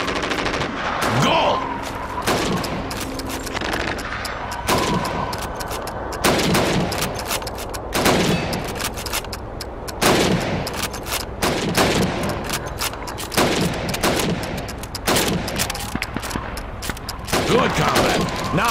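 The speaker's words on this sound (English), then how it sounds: "You have 15 seconds to shoot the helmets." Rifle shots ring out in rapid, irregular bursts in Call of Duty 2 as helmets are shot against a timer during a training exercise, loud and close, with some game voices underneath.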